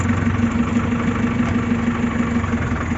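An old English taxi whose engine is running after about ten years without regular use, a steady close idling rumble with a regular low throb and no talking.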